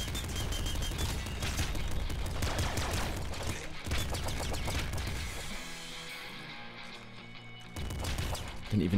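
Machine gun fire in the PC game Nuclear Throne: dense, rapid bursts of gunshots with crashing impacts, loud and nearly continuous, easing into a quieter stretch before resuming.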